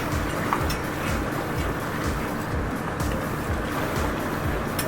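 A steady engine drone from a Leopard 40 catamaran's starboard engine running forward, with water rushing against the hull, continuous and fairly loud, with no voices.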